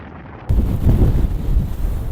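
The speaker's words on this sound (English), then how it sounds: "the wind was getting absolutely brutal at this point" Strong gusting wind buffeting the microphone on the summit of Ben Macdui in the Cairngorms, a sudden loud roaring blast after a brief quieter moment, with no talk.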